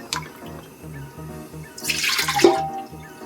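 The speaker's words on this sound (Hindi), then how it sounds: "ये जो मग लिया था उसी के बराबर हम 2 मग इसमें पानी डाल रहे हैं।" Water is poured from a mug into a pressure cooker on a gas stove in a home kitchen: a short, close splashing gush over a steady low rhythmic hum, with no talk.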